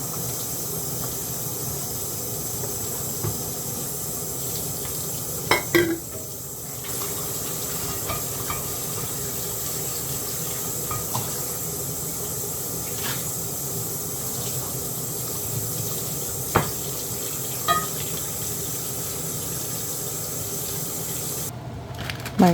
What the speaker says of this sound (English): So I'm gonna get these dishes done from the morning